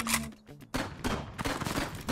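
Gunfire rattles in the video game The Crackpet Show: dense, rapid bursts of shots packed closely together, loud and continuous over about two seconds with only a brief gap.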